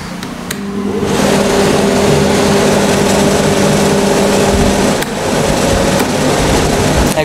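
An air cooler running on its high setting produces a loud, steady rushing whoosh with a low tonal hum beneath, constant for several seconds apart from a couple of faint clicks and a slight dip partway through.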